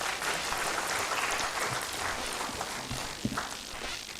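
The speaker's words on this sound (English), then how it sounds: "Can you give yourselves a round of applause?" A room full of people at a university World Environment Day event claps steadily, a dense wash of applause that stays even throughout, moderately loud.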